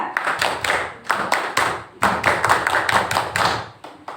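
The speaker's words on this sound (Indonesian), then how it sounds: "Tepuk pramuka." A group performs the Indonesian scout clap, tepuk pramuka, at a teachers' session: loud, close bursts of hand claps in a patterned rhythm, several quick claps grouped with short pauses between.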